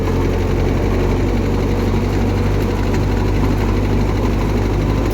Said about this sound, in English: got this 52 8N Ford tractor running and driving